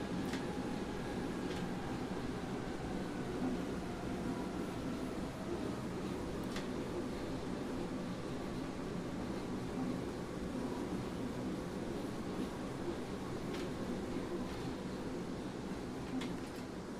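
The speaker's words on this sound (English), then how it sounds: "Another train has just passed you by." A subway train rolls past in the SubwaySim 2 video game, a steady, loud rumble of wheels and carriages with faint rhythmic clacks that carries through the whole stretch without talk.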